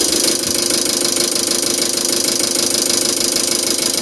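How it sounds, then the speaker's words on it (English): A Mercedes-Benz diesel pump and injectors with a non-start fault run on a test bench, giving a steady, loud mechanical clatter and rapid ticking that holds even throughout with no talk. "Right, so this is the injector's triggering."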